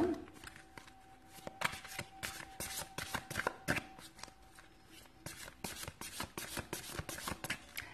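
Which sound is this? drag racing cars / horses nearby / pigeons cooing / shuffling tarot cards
shuffling tarot cards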